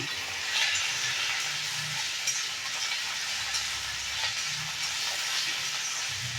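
Chillies, curry leaves, fenugreek and mustard seeds fry in hot oil for a chutney, giving a soft, steady sizzle with faint crackles throughout and no voices.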